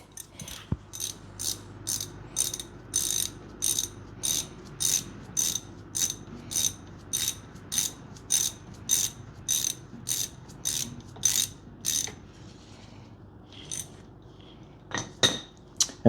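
Ratchet wrench tightening a brake caliper nut on a 2012-2017 Toyota Camry, a quick run of about twenty evenly spaced metallic clicks, close and clear, stopping briefly before a couple of final clicks.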